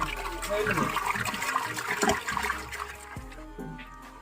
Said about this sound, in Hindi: ये जो गर्म पानी है ये चावलों के अंदर डाल रहे हैं।